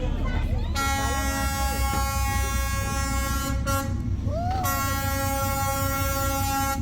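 Train passing very close on Hanoi's Train Street, a loud, steady rumble with long, sustained horn blasts, one of them bending in pitch, and crowd chatter beneath it.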